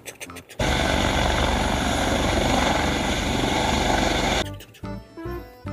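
An orange toy helicopter whirs with a steady, loud buzzing rotor drone that runs for about four seconds, with brief handling clicks and rustles before and after it.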